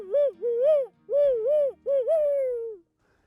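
A voice imitates an owl's hoot while spring turkey hunting, to draw a gobble. Three close, loud hooting phrases of rising and falling tones follow one another, then quiet.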